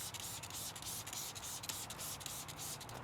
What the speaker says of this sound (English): I am gonna use the Pure Magic cleaner.